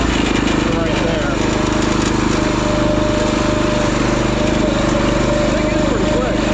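Predator engine swapped into a Wheel Horse garden tractor, idling with the throttle turned down: a loud, steady, rapid-firing small-engine chug running close and unbroken throughout, with a voice faintly present underneath.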